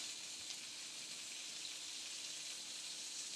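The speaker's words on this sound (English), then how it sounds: "So we're going to go ahead and throw our bacon on." Bacon sizzles steadily in a hot pan, an even, bright frying hiss that holds close and constant throughout with no voices.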